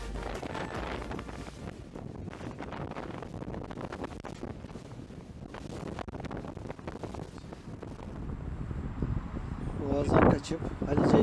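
Strong wind buffets a fishing boat on rough open sea near the Golden Horn, roaring in a gusting rush over the microphone with a louder burst near the end, while someone talks over it.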